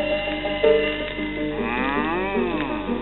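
A cow moos in a drawn-out, wavering low call, heard alone over a muffled old-recording hiss; a person may be imitating the moo.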